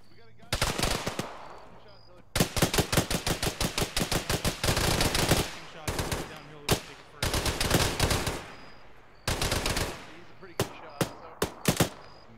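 Bursts of automatic machine-gun fire in the military shooter Arma, loud rapid volleys in several strings separated by pauses, ending with a few scattered single shots.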